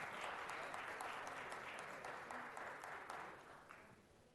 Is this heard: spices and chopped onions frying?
no